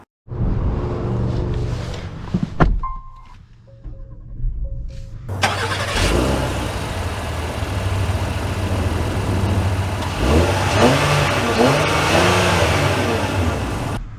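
A 2024 Acura MDX luxury SUV starts up after a few interior clicks and chimes, then settles into a steady engine hum with rising revs as it pulls away and drives.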